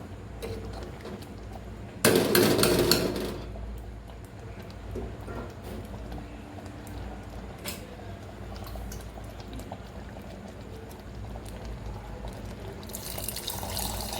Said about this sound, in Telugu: కొంచెం వాటర్ అయితే యాడ్ చేసుకున్నాను